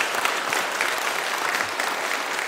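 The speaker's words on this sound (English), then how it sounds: "And so a big, huge round of applause to Aaron." Dense audience applause at a conference closing session, a continuous even wash of clapping at steady volume with no voices over it.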